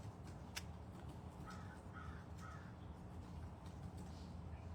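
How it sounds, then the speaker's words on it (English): A crow calls with a few short caws at a distance, faint against a steady low background hum with no talk. "Now we can see the sound of the bird."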